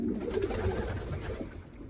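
Pigeon chicks cooing softly during leg ringing, a low, murmuring coo up close that runs continuously through the moment.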